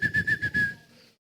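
A person imitates a shepherd's whistle, giving a steady high whistled tone broken into five quick pulses before trailing off into a softer fading note, close and alone.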